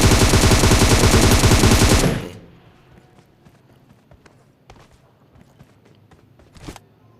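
Dense automatic gunfire in Battlegrounds Mobile India, a loud rapid burst for about two seconds that cuts off, followed by quieter scattered clicks and a couple of faint distant shots.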